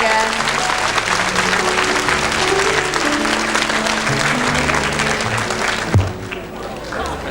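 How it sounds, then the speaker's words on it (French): A TV studio audience at a 1989 French fan show claps in sustained, dense applause over music for about six seconds, then the applause cuts off abruptly, leaving quieter sound. "Nous accueillons maintenant, sous vos applaudissements, notre troisième candidat, Morgane."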